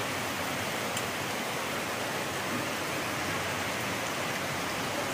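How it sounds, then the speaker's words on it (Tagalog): Heavy rain pouring during Typhoon Kristine in the Philippines, a dense, continuous hiss of rainfall at steady loudness, with no voices. "Sana tumila na yung ulan, Lord."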